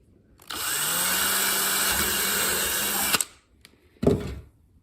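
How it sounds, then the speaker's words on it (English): A power drill bores a hole through a downpipe: one steady, loud whine lasting almost three seconds, then a short second burst after a brief pause. "So what I'm going to do is drill a hole in the middle here."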